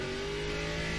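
An ARCA stock car in iRacing holds a loud, steady engine drone at high revs on the Oulton Park road course, a single continuous tone with no break.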